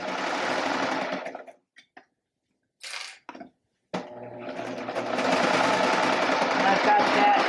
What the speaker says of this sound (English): I'm just going to serge right on the edge